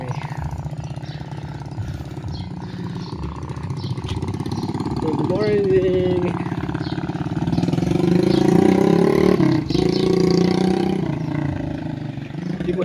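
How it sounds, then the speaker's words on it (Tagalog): A motorcycle engine is warmed up and revved on a street in Gulibay before New Year, a close, steady chugging that swells louder and throatier toward the middle and end, with a voice briefly speaking over it. "Kinokondisyonan ni kuya yung kanyang motor para mamaya"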